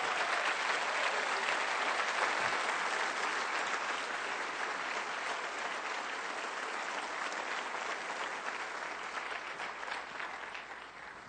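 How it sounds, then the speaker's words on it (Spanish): A church congregation bursts into loud, sustained applause with dense clapping that carries on evenly before fading slightly toward the end, and no speech over it. "Yo creo que Él merece un aplauso más fuerte."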